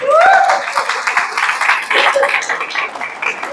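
Audience at a motivational seminar breaks into loud clapping, a close, dense patter of many hands that starts after a brief spoken line and continues steadily to the end.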